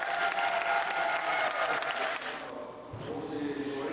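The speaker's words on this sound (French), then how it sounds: "nous allons acclamer fortement" Wedding guests at a Dallas, Texas reception burst into loud sustained applause and cheering for the bride and groom, a dense crowd clapping that fades down toward the end as a voice resumes.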